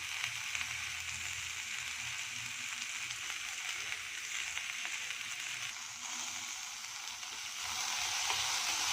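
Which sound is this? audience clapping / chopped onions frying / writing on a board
chopped onions frying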